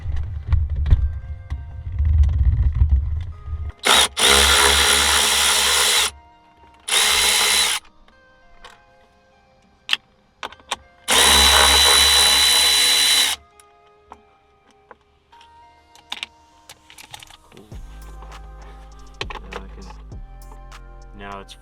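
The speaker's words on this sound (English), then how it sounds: "I'm going to remove the bolts holding it in and then take this stuff out" A power tool such as an impact driver or drill removes bolts from a car's center console in a Hellcat, sounding in several loud, close bursts of whirring with quiet handling and clicks between.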